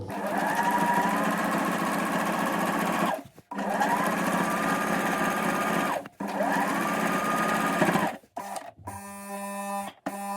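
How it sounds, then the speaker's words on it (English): A sewing machine stitching a sturdy denim jeans hem, with three long, steady, loud motor whirs separated by short pauses, then a few brief stops and starts at the end. "So let's just keep sewing."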